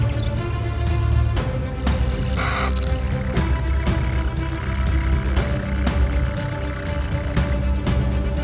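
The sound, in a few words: large nestling birds calling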